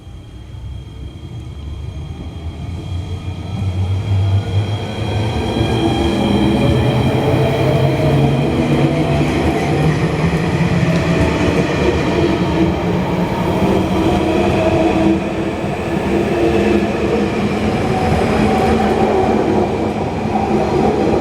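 A Tiltlander train rumbles past close by, a steady loud roar of wheels and rail noise with faint clickety-clack that builds over the first few seconds, holds, and eases slightly toward the end, with no talking.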